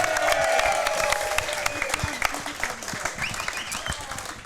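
A live show audience applauds and cheers for Jimmy O'Brien (Jomboy) at an All-Star Weekend event, dense clapping filling the room loudly before gradually thinning out, with whoops and voices mixed in.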